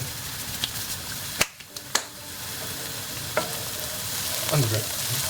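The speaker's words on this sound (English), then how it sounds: "Onions are cooking away." Onions frying in a pan on a home kitchen stove, with a soft steady sizzle, a few sharp utensil clicks and taps early on, and a quieter stretch near the end.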